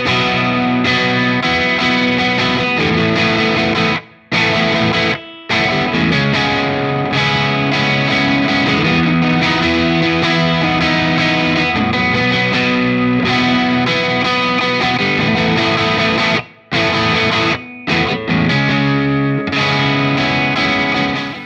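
PRS SE John Mayer Silver Sky electric guitar with 635S pickups played through effects, a continuous distorted, chorus-tinged strummed passage with a few brief pauses between phrases.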